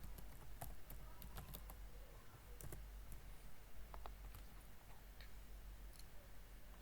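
Someone types on a computer keyboard while entering data into an Excel spreadsheet, producing irregular quick clusters of light clicks over a low steady hum, close and fairly faint.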